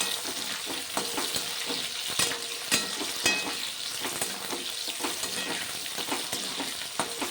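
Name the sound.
onions frying and being stirred in oil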